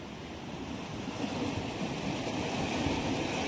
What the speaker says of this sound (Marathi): खूप मधीच लाटा येतात मोठ्या मोठ्या